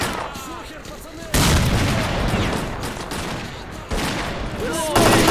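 A grenade explosion and gunfire in the shooter S.T.A.L.K.E.R., with sudden loud blasts and rapid shots arriving in abrupt bursts close by, separated by quieter stretches where a voice is faintly heard.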